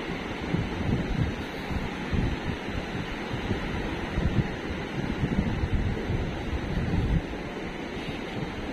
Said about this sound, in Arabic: بحر جميل جدا